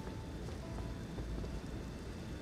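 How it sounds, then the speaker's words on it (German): Steady rain with low thunder rumbling in Elden Ring, near the holy tower of Leyndell, a dense continuous wash of downpour that stays loud and even throughout with no voices. "Regen, ja."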